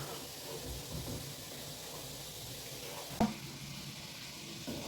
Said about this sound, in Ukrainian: Зараз перемішую капусту і продовжую смажити на середньому вогні ще хвилин 10.